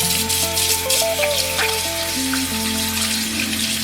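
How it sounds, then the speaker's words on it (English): Hands are rinsed under running kitchen tap water during cooking, giving a continuous, close, splashing hiss that keeps a steady level over soft background music. "And let me wash off my hands."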